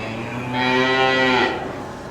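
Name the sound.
cow mooing at farmer's fair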